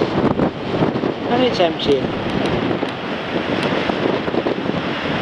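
Strong wind buffets the microphone beside a tidal pool at Portsoy, with the tide out, a steady broadband roar under a voice speaking briefly.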